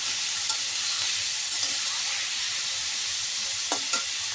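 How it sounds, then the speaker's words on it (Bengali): Paneer pieces frying in hot oil give a steady bright sizzle, close and continuous, broken by a few soft spoon taps and stirs. "এবার এই যে পনিরগুলিকে সুন্দর করে লাল লাল করে ভেজে নেব।"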